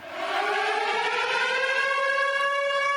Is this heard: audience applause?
no